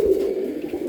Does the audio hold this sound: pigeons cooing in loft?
yes